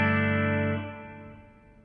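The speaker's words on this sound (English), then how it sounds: "I noticed on my effects loop I have the reverb and the delay on" Electric guitar from a 2019 Ernie Ball Music Man Majesty, played through reverb and delay effects: a strummed chord rings out with rich sustained harmonics, then decays into a lingering reverberant tail, close and fairly loud.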